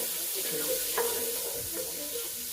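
Garlic sizzling in hot oil in a pan for a chicken Manchurian dish, a steady soft frying hiss with a few stirring clinks, heard alone at close range.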